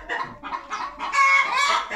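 Hens in a winter chicken coop cluck and squabble in quick, agitated bursts that rise into louder overlapping squawks toward the end, close by with no talk.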